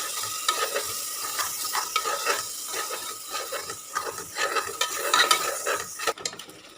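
Curd and masala are stirred into a frying mutton biryani base, a steady scraping stir over continuous sizzling, close and with no talk.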